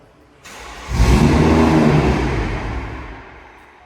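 A new car worth 150,000 euros starts up. The engine catches after a short crank, roars up close and loud, then settles and slowly fades.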